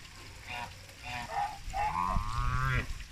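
Domestic geese give several short nasal honks and calls near the listener, breaking out in uneven bursts and growing busier toward the end.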